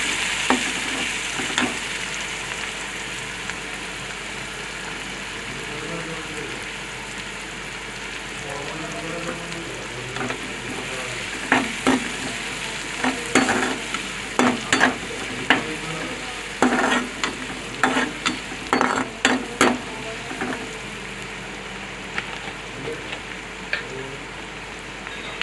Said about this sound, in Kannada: ನೆಕ್ಸ್ಟು ಆ ಎಣ್ಣೆಗೇನೆ ಸ್ವಲ್ಪ ಆನಿಯನ್ ಹಾಕೋಣ.